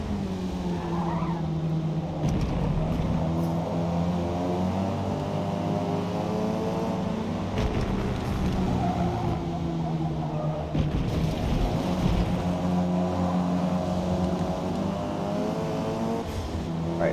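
Race cars roar through a lap in the Forza Motorsport racing game, steady engine drone with shifting revs and occasional tire skids, continuous and fairly loud.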